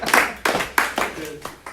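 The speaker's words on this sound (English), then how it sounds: "Give yourselves a round of applause." An audience gives itself a round of applause, a few loud, close hand claps in an irregular rhythm mixed with brief voices and cheering.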